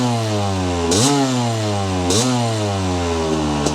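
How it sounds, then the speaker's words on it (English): 1989 Kawasaki KX250 motocross bike idles close up, buzzing, then is blipped twice in quick, sharp revs that climb and fall back to idle. "Starts really easily. Engine sounds fantastic. Very sweet revving machine."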